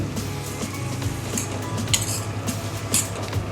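Utensil stirring and scraping a pan of paneer butter masala mixture cooking over a low flame, with soft clinks of metal against the pan amid a faint steady sizzle.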